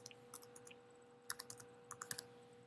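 Faint, quick keystrokes tap out a short word on a computer keyboard in small clusters, with gaps between them, over a quiet steady electrical hum.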